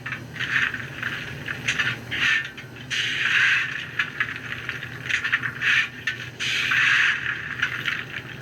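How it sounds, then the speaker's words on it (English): An ESU sound decoder in an HO scale Rivarossi two-truck Heisler locomotive plays coal shoveling: repeated gritty scraping scoops in uneven bursts with short pauses between, at moderate loudness and with no talking. "You've got coal shoveling,"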